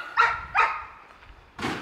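A puppy gives two short, sharp barks close by, followed after a pause by a third louder yip, heard during a weekend house clearout with no talking over it.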